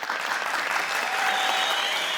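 Studio audience at a televised quiz show bursts into sustained, even applause, a dense wash of many hands clapping at moderate distance, with a faint tone ringing beneath.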